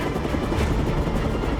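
Steady whirring rotor and engine noise of a marine fire brigade helicopter during a building-fire evacuation in Marseille, fairly loud and continuous, with no voices.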